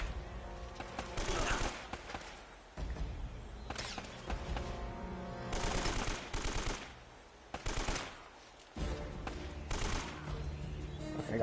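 Bursts of automatic gunfire from blind firing in the video game Uncharted come in several rapid volleys separated by short gaps, crisp and fairly close, with some speech mixed in.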